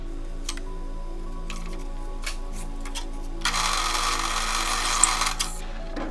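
A hand drill bores through a wooden mallet head, a steady rhythmic mechanical whir that turns harsher and louder partway through as the bit bites into the wood.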